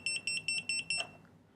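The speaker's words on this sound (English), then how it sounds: "We can test our beeper as well. So there's our bleeper." A racing drone's beeper sounds five quick, even double-beeps, shrill and high-pitched, then stops. Each burst is short and piercing at moderate volume, with quiet background between pulses.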